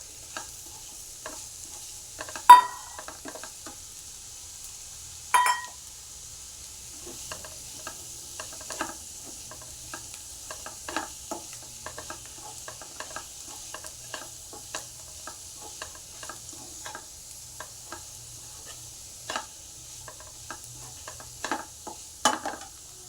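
Finely chopped tomatoes sizzle and fry in a pan for cashew curry, a steady soft hiss with occasional stirring clicks and a couple of sharper clatters, no talk.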